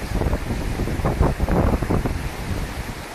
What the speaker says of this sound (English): Oh, the wind is really nice.